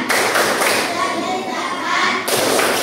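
A classroom group claps the rhythmic zakat clap chant, a dense, loud run of hand claps and thumps with young voices mixed in throughout.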